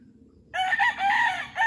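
A rooster crows loudly and close by, a drawn-out call that starts abruptly after a moment of near silence.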